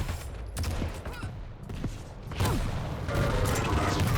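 Rocket fire and explosions from a Quake match sound through a busy stretch of game noise, several sharp launches and blasts spaced irregularly, with heavier sustained action building toward the end.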